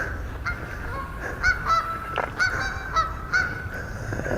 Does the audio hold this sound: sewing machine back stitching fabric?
no